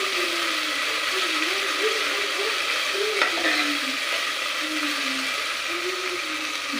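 Ginger garlic paste frying in a pan for coconut milk ghee rice, a steady close sizzle with soft stirring scrapes throughout.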